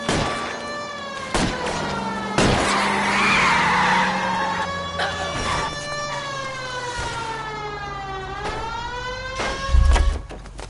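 Car tyres skid during a car chase in the video game L.A. Noire, with long wavering squeals rising and falling over engine roar and a thump near the end.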